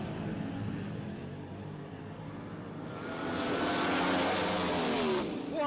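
Drag racing cars from 1971 launching off the starting line, a loud engine roar building and rising in pitch as they accelerate away, with no talk over it.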